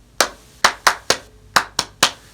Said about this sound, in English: if I were to clap this